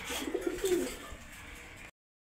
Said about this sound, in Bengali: দেখেন মাশাআল্লাহ অনেক সুন্দর দুইটা মেল কবুতর